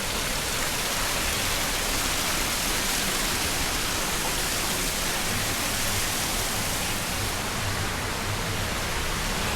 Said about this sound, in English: A little bit of water running.